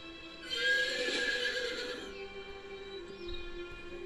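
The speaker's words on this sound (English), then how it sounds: "Yep, this is my new horse I got." A horse mount whinnies in the Forsaken World video game, a bright, wavering neigh rising loudly then trailing off, followed by a faint soft hoof clop near the end.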